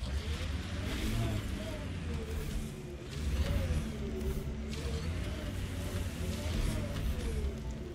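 Engine drone of a vehicle driving across terrain in the video game Mass Effect Andromeda, a continuous low rumble with rising and falling revs and faint chatter underneath.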